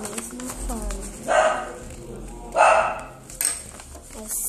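A small dog barks indoors in a few sharp bursts spread across a few seconds, moderately close, over quiet room sound.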